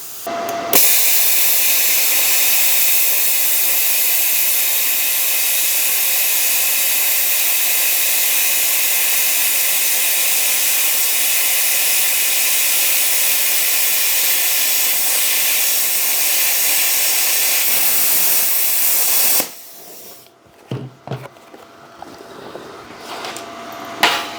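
Arccaptain CUT55MP plasma cutter slicing through half-inch steel plate, a loud steady roaring hiss held for about nineteen seconds before cutting off abruptly into quiet clatter.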